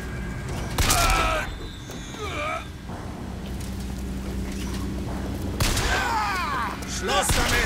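Bursts of BioShock Infinite gunfire crack out in short volleys, with quieter stretches of rumbling game sound between them.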